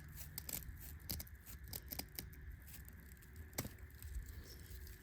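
Scissors snip through a dried luffa sponge, trimming it into a soap holder, in a quick run of sharp, close cuts with brief pauses between them and no talk.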